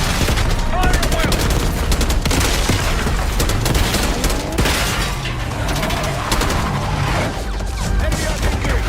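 Dense, continuous battlefield gunfire from the Call of Duty Black Ops 6 campaign, with rapid automatic bursts and booming impacts layered together in a loud, chaotic mix.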